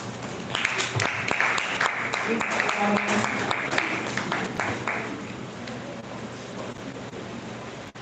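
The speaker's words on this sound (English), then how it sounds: "Let's clap for them now." An audience claps in a dense burst of applause at a live talk on the green economy, swelling and then thinning out over several seconds, with a voice speaking over the clapping.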